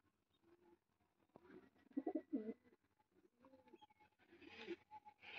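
A pigeon in a paired loft gives soft, throaty cooing calls, faint and close, in short bursts with quiet gaps between them.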